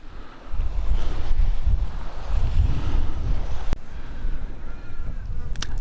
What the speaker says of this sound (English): So hoping for the wind to settle down a bit.